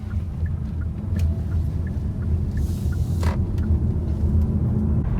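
A Hyundai Kona Electric pulls away under acceleration with a steady low road rumble and a soft motor hum, close and continuous, with no talking.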